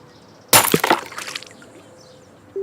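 Mobile phone dropped to the floor lands with a sharp, loud crack and brief rattling debris that fades out within a second, with no talk.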